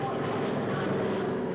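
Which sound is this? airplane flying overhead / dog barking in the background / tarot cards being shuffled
airplane flying overhead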